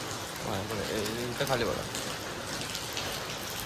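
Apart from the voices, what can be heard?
heavy rain falling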